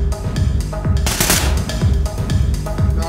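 Rapid gunfire in the video game Ready or Not, with loud, close bursts of shots in a rhythmic chatter that runs without pause for several seconds.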